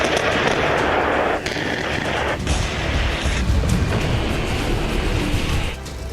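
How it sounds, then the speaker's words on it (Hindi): Heavy artillery fire from a tank firing 155 mm shells in the Donetsk region, a dense rumbling barrage with several sharp booms that punctuate a continuous loud roar. "155 mm के गोले दागने वाले टैंक से यहां तबाही मचाई गई।"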